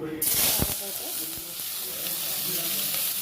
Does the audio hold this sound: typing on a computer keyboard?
no